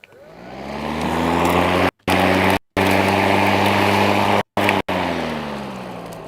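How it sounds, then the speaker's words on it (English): A Bosch GRA 18V2-46 professional cordless lawnmower runs close by with a steady, loud motor drone and a humming tonal whine, broken by a few abrupt, brief cutouts. "the GRA 18V2-46, our new professional lawnmower"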